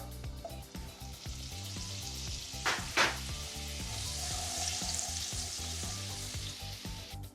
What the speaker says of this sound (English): The reason we put the oil in is so we don't burn this butter.